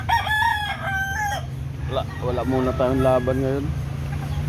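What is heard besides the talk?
chickens and rooster clucking and crowing in small coop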